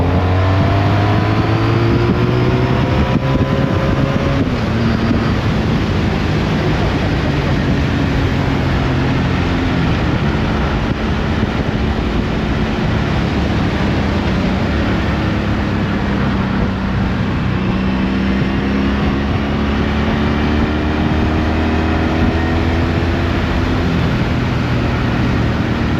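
A 1984 Honda V65 Magna VF1100C motorcycle engine pulls hard in third gear, a loud close drone whose pitch climbs and dips over about half a minute, with heavy wind rumble and no voices.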